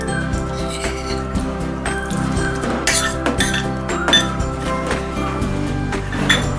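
Kheer with sago being stirred in a pot, a spoon clinking and scraping against the metal in irregular taps and knocks, close and fairly loud over a steady background hum.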